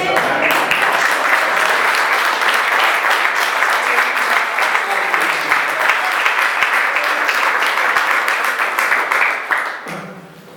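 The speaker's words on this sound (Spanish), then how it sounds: "Denle un aplauso en esta tarde." A Spanish-speaking church congregation applauds in a loud, continuous wave of clapping for about ten seconds, then it quickly dies away into quiet at the end.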